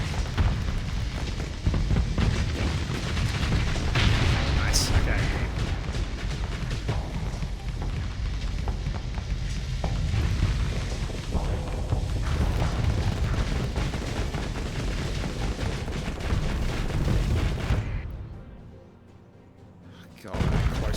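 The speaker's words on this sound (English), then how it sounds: "That's a big missile barrage," A dense missile barrage in the Starsector space combat game, a continuous loud roar of overlapping booms and blasts that drops away abruptly near the end before a final burst returns.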